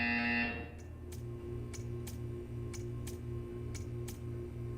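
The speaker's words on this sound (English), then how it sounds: "You will hear a buzzer." A loud electronic buzzer in the video game Portal 2 sounds for about half a second, followed by a steady mechanical ticking hum with regular clicks.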